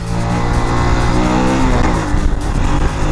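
A modified Honda Wave motorcycle accelerating hard in first gear, a loud, close engine drone climbing steadily in pitch over a few seconds with no voices.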